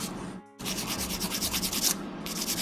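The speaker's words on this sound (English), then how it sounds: "2000 grit sandpaper losing power. I feel like I'm working extra hard to get through." Rapid back-and-forth rasping of 2000 grit sandpaper against a Gunpla plastic model part, steady and close, briefly pausing near the start before resuming in even strokes; no voices.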